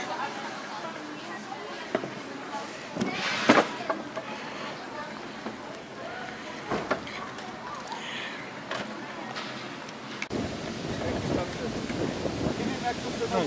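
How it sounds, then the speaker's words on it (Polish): Strong, warm gusty wind buffets an external microphone on a GoPro in uneven rumbling bursts, with a voice talking at times underneath and louder gusts toward the end. "No, dzisiaj dosyć spory wiatr jest."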